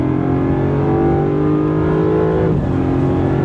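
A 2025 Land Rover Defender 90 with a supercharged 5.0-liter V8 pulls hard, its engine roaring loud and close. The pitch climbs steadily before a brief dip as it shifts, then keeps pulling.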